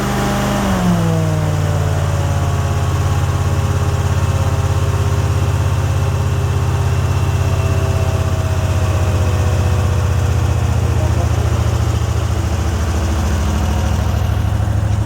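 The Amtex Marine 4047 APO machine engine drops in pitch at the start as its RPM is lowered, then settles into a loud, steady, low idle drone that continues throughout.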